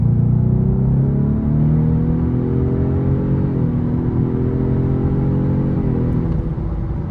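A 2026 Ford Mustang EcoBoost accelerates in normal drive mode, its engine note rising steadily in a continuous, fairly loud drone heard from inside the car with no talking.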